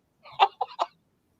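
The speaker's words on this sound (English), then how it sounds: "Sue just let out a duck." A duck quacking: three short, close honking calls in quick succession, clear against silence.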